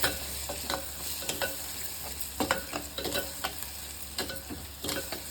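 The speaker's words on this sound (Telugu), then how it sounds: "వేగాలి కొద్దిసేపు" Shark fish and raw mango pittu frying in a pan give a steady sizzle with repeated close scraping and tapping of a stirring spoon at an uneven rhythm.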